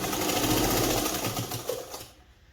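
A sewing machine stitches a ruffle sleeve with a 1-inch allowance, a fast steady mechanical whir close by that winds down and stops near the end.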